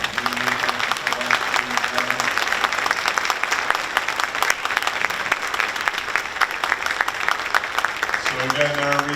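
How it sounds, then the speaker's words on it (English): Audience applause for panelists at a community conversation event fills the room as dense, sustained clapping, with a speaking voice briefly heard at the start and again at the end. "please giving our panelists a warm round of applause"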